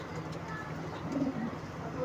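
Pet pigeons cooing softly in a short burst, faint and low against quiet background noise.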